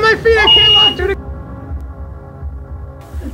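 A fire alarm sounds in a film scene: a steady electronic tone rings at first, then a lower droning buzz carries on with quieter, muffled voices over it.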